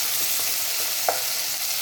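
Cloves, garlic, curry leaves and green chillies sautéing for a chicken curry, heard as an even, close frying hiss with a single soft spatula tap.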